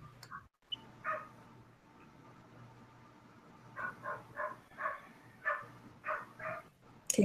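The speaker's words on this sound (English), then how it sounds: "Okay, Iwa, can you please mute your mic because we hear a dog?" A dog barks repeatedly in short bursts, with a few whimpers and yips, coming through faintly over a remote call line with a low hum beneath.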